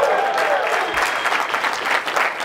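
A seminar audience bursts into loud applause and cheering, a dense crowd clapping that lasts a couple of seconds.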